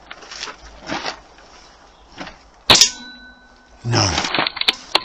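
Air rifle pellets strike a metal bell target, making two sharp, loud metallic clangs that ring on briefly. Softer, quieter knocks come before them.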